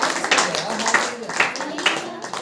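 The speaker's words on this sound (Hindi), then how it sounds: "एक बार ताली बजा करके उसको" A congregation at a church prayer meeting claps together in a few loose, rhythmic bursts, partly mixed with voices.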